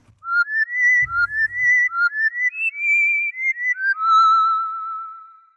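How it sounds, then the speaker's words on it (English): A Sylenth synthesizer flute preset styled as a Zelda-like wood flute plays a breathy, whistle-like melody of quick legato notes with slight pitch slides, ending on a long fading tone, close and alone. "So number 5 is a flute sound,"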